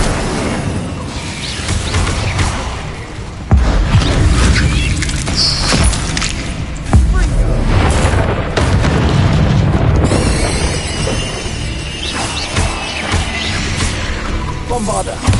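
Bombarda and Confringo spell explosions in the video game Hogwarts Legacy, repeated loud booming blasts and crackling bursts under a dense layer of combat effects and music, with a voice in the mix.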